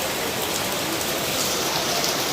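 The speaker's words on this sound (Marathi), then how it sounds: "जोरदार पाऊस चालू झालेला आहे" Heavy monsoon rain pours steadily outside a village home, a dense, continuous hiss of drops hitting surfaces, close and loud with no voices.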